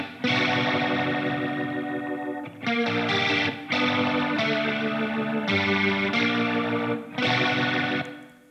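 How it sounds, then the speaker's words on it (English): Electric guitar running through a Leslie rotary speaker effect, soloed in a rock mix with a slightly gritty tone, plays sustained chords in several loud phrases separated by short gaps, with no talking. "It's a simple Leslie rotary sound. I really like how that guitar sounds with the rotary."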